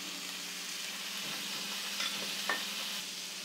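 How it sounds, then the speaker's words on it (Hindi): Bell pepper, beans, carrot and cauliflower sautéing in a pan for savory daliya, a steady soft sizzle with occasional stirring scrapes, close and continuous, no voices. "अब मैं इनको थोड़ा सा भून लेती हूँ"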